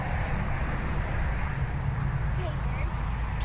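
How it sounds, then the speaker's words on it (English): Road traffic beside a lake gives a constant broadband roar, steady and fairly loud throughout, with a few faint bird-like chirps on top. "Sorry about the traffic noise"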